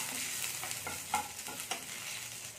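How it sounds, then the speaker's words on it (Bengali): Chopped garlic frying in hot oil in a pan, a steady close sizzle with a few light scraping stirs of a utensil, no voices. "এখানে তেল দিয়ে দিচ্ছি, তেলটা গরম হয়ে গেছে। এবার রসুন কুচি দিয়ে দিচ্ছি। রসুনটাকে একটু আমি ভেজে নেবো।"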